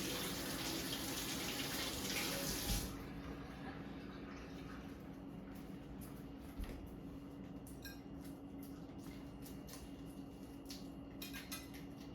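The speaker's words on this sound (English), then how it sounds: "sometimes you can just like run it under some water to help peel it" Tap water runs loudly and steadily for about three seconds while hard-boiled eggs are rinsed to help peel them for a cauliflower salad, then cuts off, leaving a quiet room with faint clinks.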